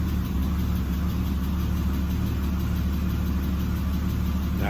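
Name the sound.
BMW E36 M50 engine idling with eBay shorty headers, slight knock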